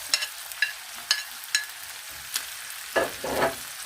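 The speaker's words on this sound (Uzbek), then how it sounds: "Endi azizlar kartoshkamizni tashlab olamiz." Potatoes tipped into a pan of frying carrots for buckwheat plov make a series of sharp scraping clicks and clatters at regular intervals, then a swelling burst of hiss and sizzle near the end.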